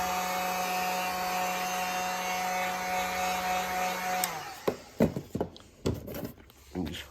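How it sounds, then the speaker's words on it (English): A heat gun warming vinyl wrap on a Honda Civic: a steady whirring blower hum with a tonal whine that cuts off partway through, followed by scattered handling thumps and rustles of the vinyl. "And you just start using your heat gun."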